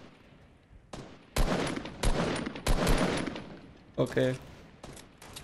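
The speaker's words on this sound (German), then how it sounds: "Da hat wahrscheinlich irgendjemand in die Luft geschossen" Gunshots in Fortnite Battle Royale: several sharp, loud bursts of fire in quick succession, with a short spoken word in between and quieter gaps.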